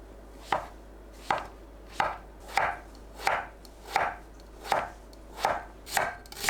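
King oyster mushrooms are sliced 0.5 cm thick with a knife on a cutting board, about ten crisp, evenly spaced chops in a steady rhythm, close and clear with no voices.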